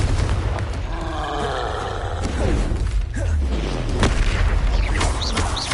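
Confringo spell blasts in the Hogwarts Legacy video game: booming fiery explosions and whooshing magic impacts going off one after another amid combat clatter, loud and close, with no talking.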